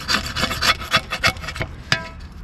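Rust being scraped off a part of a 1955 Willys CJ5 Jeep, a close series of about eight rough rasping strokes in an uneven rhythm, each a short gritty scratch, with no talk.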